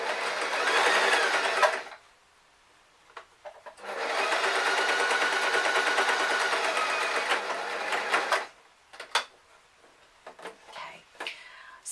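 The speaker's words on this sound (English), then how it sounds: "I'm going to make sure my needle is up before I remove it from the sewing machine" Home sewing machine stitching fabric for a beginner's bag hat, a steady close whirring run of about two seconds, a pause with small handling clicks, then a longer six-second burst followed by scattered taps and clicks.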